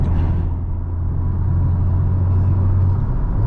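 Steady low engine rumble from a 2019 Honda Civic Type R, heard from inside the car as it downshifts, with a droning tone that rises slightly toward the end and no talking.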